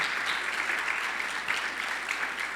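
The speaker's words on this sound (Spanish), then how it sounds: "Ayúdeme a darle una bienvenida a todos los que están allá en el otro lado, en las redes sociales, con un aplauso bien fuerte" Church congregation applauding in welcome during a sermon, a full, steady wash of clapping from many people at moderate volume, continuous throughout with no speech on top.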